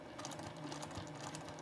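A sewing machine stitching binding onto a quilt, running steadily with a fast, even mechanical clatter, close and moderately quiet, with no talking.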